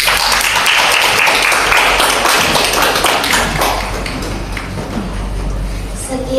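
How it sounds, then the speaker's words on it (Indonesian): An audience gives dense, steady clapping after a school presentation in a podcast session at SMKN 6 Surakarta, with the applause filling the room before gradually thinning out. "Kita berikan aplaus."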